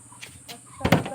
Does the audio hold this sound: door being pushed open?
yes